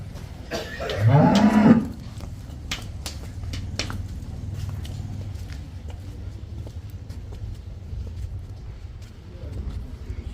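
A cow or buffalo on a dairy farm lets out one loud moo early on, while farm background noise and scattered clicks continue at a lower level.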